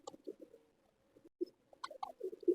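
Pigeons coo softly on a rooftop, low throaty murmurs in short irregular bursts that are quiet and intermittent, with a faint chirp and small rustles between calls.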